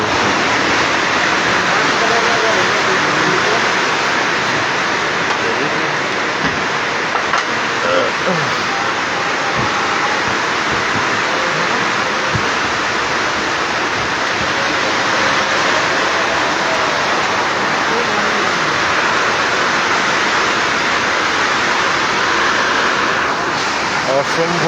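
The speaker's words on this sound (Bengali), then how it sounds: "অসম্ভব বৃষ্টি এবং বৃষ্টির সাথে রয়েছে পাথর পাথর পড়ছে বৃষ্টি হচ্ছে প্রচুর বৃষ্টি" Heavy rain with hail pouring down outdoors, a dense, loud, continuous roar of falling water that holds steady throughout, with a voice talking over it.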